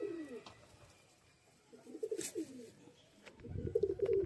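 A restless domestic pigeon coos in several short bursts, near and fairly quiet, with soft rustling and a louder stretch of cooing at the end.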